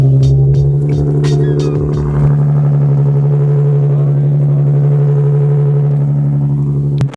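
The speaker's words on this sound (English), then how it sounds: "A 9:30 p.m. cold start." A modified Nissan 370Z at night, cold start at 9:30 p.m., settles into a loud, steady low idle drone after a rougher first couple of seconds, close and continuous until it cuts off.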